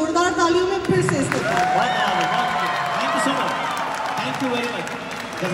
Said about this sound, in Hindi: एक बार ज़ोरदार तालियों में फिर से